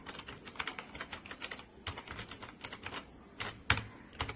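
Steady typing on a Redragon K552 mechanical keyboard fitted with red linear switches, a close, quick run of soft clicks and clacks with a few heavier key strikes near the end, no voices.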